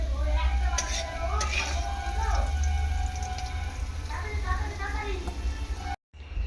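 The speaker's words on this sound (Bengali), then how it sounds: "আমি আলুটাকে সুন্দর করে আগে ভেজে তুলে নিচ্ছি" Potatoes fry in a pan before okra is cooked, a steady sizzle with occasional clinks of a utensil against the pan, under someone speaking throughout.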